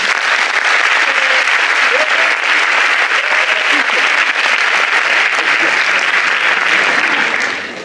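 Steady, loud audience applause fills a hall at an eloquence contest final as a jury member, a labour-law professor, is welcomed, sustained throughout before tapering slightly at the end.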